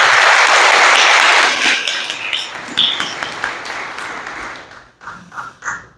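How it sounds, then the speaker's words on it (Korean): Applause from a church congregation at a thanksgiving service for moving into a new building, loud and dense at first, then thinning into scattered claps that fade out. "다시 한번 하나님께 영광의 박수 드리겠습니다."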